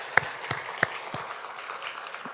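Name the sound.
church congregation applauding to welcome new member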